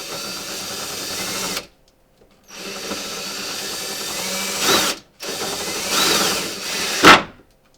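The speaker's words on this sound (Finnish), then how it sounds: "pitäisi ensin ehkä porata kuitenkin reikää tähän, että se lähtee menemään" A power drill whirs in three bursts separated by short pauses, revving higher near the end of each run as it bores into material.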